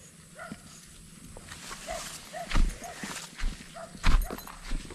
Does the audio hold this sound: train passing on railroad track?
no